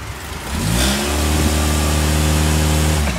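A minivan engine revs up before mudding, rising from idle into a loud, sustained mid-pitched roar with climbing harmonics, close and steady throughout.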